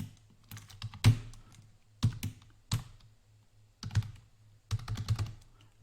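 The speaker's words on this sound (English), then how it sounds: "I don't want to keep typing all of that" Keystrokes on a computer keyboard clatter in short irregular bursts, close and fairly quiet, with pauses between runs of typing over a faint steady hum.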